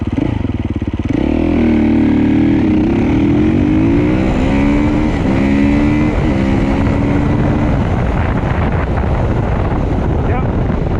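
A 450 dirt bike with a six-speed gearbox accelerating hard through the gears, loud and close, its engine note climbing repeatedly with each shift over wind buffeting.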